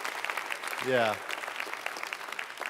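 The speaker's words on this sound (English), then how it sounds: "You want to clap again? Go ahead, clap again." Scattered congregation applause rings out at a church livestream service, with a brief voice and a short sung or spoken tone rising over the clapping midway.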